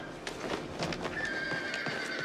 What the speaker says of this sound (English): Take the white horse. He's the strongest.